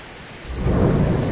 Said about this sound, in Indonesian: dan lagi hujan nih, waduh, nggak bisa kemana-mana.